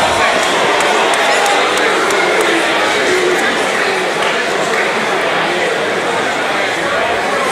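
A boxing arena crowd gives dense, steady applause mixed with cheers and chatter after a split decision in a women's bout between Alecia Graf and Susie Ramadan, loud and continuous throughout.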